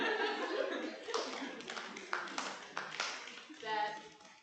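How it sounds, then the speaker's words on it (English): An audience claps at a talk on women's resistance across time and faith, with scattered handclaps and light chuckles mixed in over a murmuring room, moderately loud and fading toward the end. "let us clap for Brigid"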